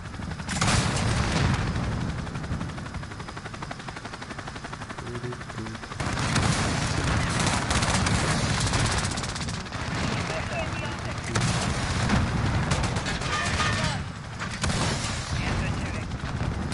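Gunfire in Call of Duty Modern Warfare, a video game: repeated bursts of automatic shots and booming impacts in dense volleys, with game radio voices talking in between.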